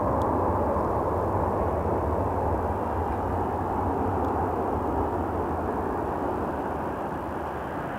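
An Air Canada Airbus A320 arriving from Winnipeg and landing at Toronto Pearson: a steady, broad jet roar heard from a distance holds evenly throughout, with no voices.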